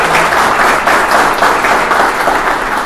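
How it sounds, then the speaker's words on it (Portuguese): Loud, dense applause fills a hall at a business association event in Xanxerê, with steady rhythmic clapping from a large audience and no voices over it. "Merece uma salva de palmas esse catarinense."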